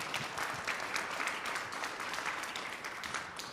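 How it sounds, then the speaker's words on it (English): Audience applause at a student innovation pitch event, a steady wash of many hands clapping at moderate level, continuous for several seconds with no voices over it. "so to come together today and bring this together is worthy of a round of applause"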